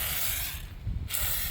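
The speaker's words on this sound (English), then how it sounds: "I'm going to spray the chain." Lubricant sprayed onto the chain of a 1996 Yamaha FZR600R motorcycle, a steady close hiss that briefly drops out and then resumes.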